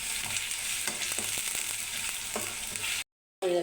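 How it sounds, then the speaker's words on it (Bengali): Ginger-garlic paste fries in a hot pan with a steady close sizzle, broken by scraping stirring strokes, then a brief silent cut near the end. "ভাজা হয়েছে, আদা রসুন বাটা দিয়ে কিছুক্ষণ লাড়া দিলাম"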